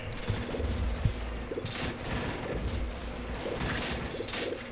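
Cannon towers in Frankenstorm Tower Defense fire in a rapid, irregular volley of sharp, punchy bursts, some overlapping, over a busy game background, with no talking.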